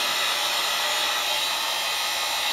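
Heat gun blowing a steady, loud airy hiss onto EVA foam for a couple of seconds, constant and uninterrupted.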